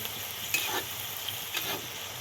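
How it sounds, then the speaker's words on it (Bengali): Cabbage stirred in a pan for puja bhog, a steady soft sizzle with two brief scraping strokes of the spoon, close and alone without voices. "সব উপকরণগুলোকে ভালো করে আমি একটু মিশিয়ে নেব"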